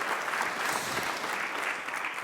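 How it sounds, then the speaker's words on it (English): Steady applause from a conference audience at the Mackinac Policy Conference, many hands clapping in an even, moderately loud wash that holds for the whole stretch without voices. "We can clap for that."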